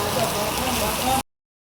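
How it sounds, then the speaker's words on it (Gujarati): Heavy rain pouring down steadily in a dense, loud wash of drops on surfaces, continuous until it cuts off abruptly after about a second. "વરસાદ હજી ફૂલ જ પડે છે."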